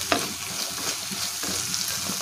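Tomatoes softening in an egg keema curry pan, a continuous close sizzle of frying with soft stirring scrapes running throughout.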